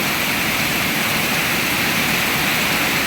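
Heavy rain pouring down in Bangladesh, a dense, steady hiss and roar that stays loud and unbroken throughout, with no voices.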